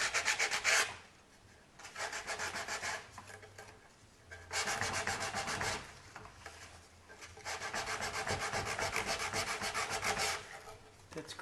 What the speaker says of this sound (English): I'm just sanding on the edge.